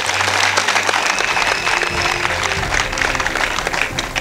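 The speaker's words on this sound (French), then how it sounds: "Applaudissez-vous une dernière fois avant que je vous quitte." Crowd applause at an outdoor political party rally in Bouaflé, Côte d'Ivoire: dense, steady clapping from a large gathering, sustained and fairly loud throughout.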